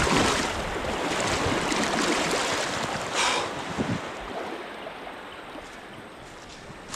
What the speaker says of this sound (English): Okay, that's the Aqua River.